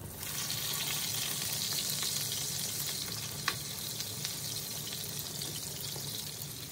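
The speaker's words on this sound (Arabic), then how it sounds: "أول شي رح نقلي صدور الدجاج بشوية زبدة وزيت." Steady sizzling of chicken breasts frying in butter and oil in a hot pan, a constant crackling hiss with occasional small pops and light stirring.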